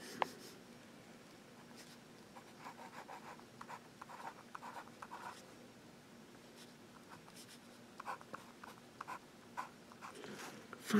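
Pelikan M1000 fountain pen with a fine nib writing on paper, soft scratchy strokes in a continuous, irregular rhythm, quiet and close with faint room hum beneath.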